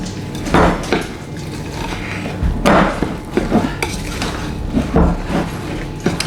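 Cake batter is stirred in a bowl with a utensil, giving repeated scraping and knocking strokes against the bowl's sides, loud and close in an irregular rhythm.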